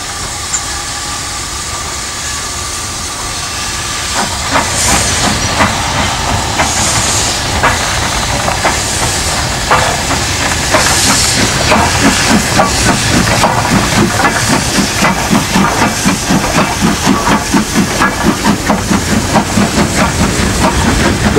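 The Great Marquis steam locomotive, number 61994 and fitted with a wind cutter, hisses steam loudly and steadily at a winter railway gala, with rhythmic chuffing building in the later part.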